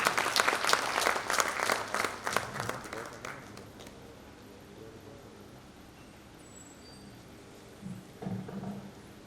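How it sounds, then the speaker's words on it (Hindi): An audience at a Rajput community award event applauds to welcome a speaker onto the stage, a loud, rapid burst of clapping that fades out after about four seconds, leaving quiet room noise. "जोरदार तालियों से उनका स्वागत करें मंच पर।"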